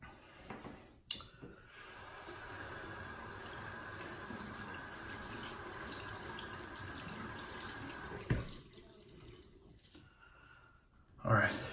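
A tap runs steadily onto shaving soap for several seconds, a close, even hiss of flowing water that cuts off abruptly, with a few clicks and handling noises around it.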